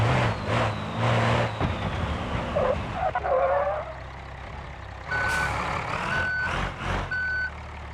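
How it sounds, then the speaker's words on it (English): A truck in the video game BeamNG.drive reverses, its engine grinding and hissing before a backup beeper sounds three evenly spaced electronic beeps over engine noise. "That backup beeper sounds a bit different too"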